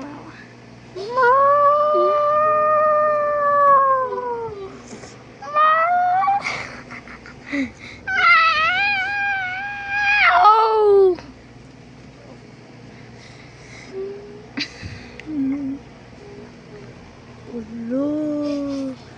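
A cat meows in drawn-out, wavering calls, several long plaintive cries with gaps between them, and a person's voice can be heard faintly in the background.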